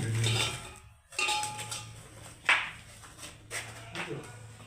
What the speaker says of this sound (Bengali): এই যে পরোটাটা বানাচ্ছি, সেঁকে নিচ্ছি আগে